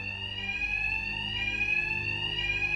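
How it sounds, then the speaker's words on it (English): A ringing alarm blares continuously in Batman: Arkham Knight, a steady high electronic tone with harmonics sustained at constant loudness, layered over low game ambience and rumble. "My attacks will be covered by the noise of the alarm."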